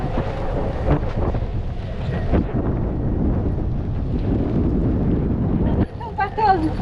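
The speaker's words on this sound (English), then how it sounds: "Yeah, it is properly howling out of here." Strong gusty wind off the coast of Skye buffets the microphone aboard a boat, a loud low roar that rises and falls in gusts, with a voice speaking briefly near the end.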